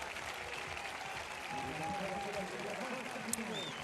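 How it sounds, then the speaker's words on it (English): Stadium crowd at a women's triple jump competition at the Mediterranean Games applauds steadily, a broad wash of clapping held at moderate level throughout, with a commentator's voice talking over it. "That crowd still giving Majidedin Ghazal a huge round of applause."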